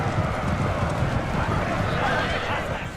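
Cavalry hooves clatter in a dense, continuous galloping rumble during a Napoleon Total War battle, with a horse neighing, all under someone talking.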